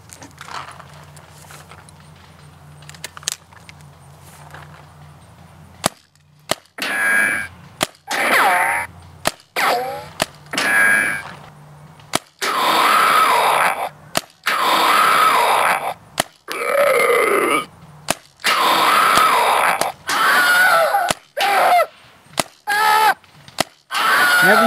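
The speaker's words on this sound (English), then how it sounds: "It'll make a zombie sound, or a scream sound, or a ricochet sound, depending on the dip switch settings on the main board." Electronic paintball and airsoft target system playing its hit sound effects: sharp impact cracks, each followed by a loud synthetic scream, zombie groan or ricochet, repeating in rapid bursts close up after a quieter opening stretch.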